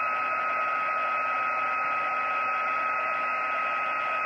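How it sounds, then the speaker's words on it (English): A heat tool blowing hot air to melt embossing powder for a craft project: a constant, steady whirring blower tone with a high whine, held without a break and with no talk. "we're just gonna heat this until the embossing powder melts"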